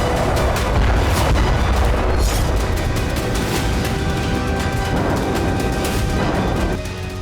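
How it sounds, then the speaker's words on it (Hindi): Bombs exploding over residential areas and refugee camps in Rafah, a sustained, loud roar of deep booming blasts and rumbling with no clear gaps between impacts. "रिहायशी इलाकों, शरणार्थी कैंप पर बम बरसाए जा रहे हैं।"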